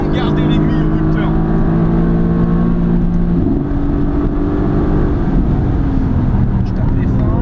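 A 2015 Mercedes-AMG GT S with its 510 hp engine held at the rev limiter in manual mode, a loud, steady rasping drone that briefly dips and climbs again, heard from inside the car.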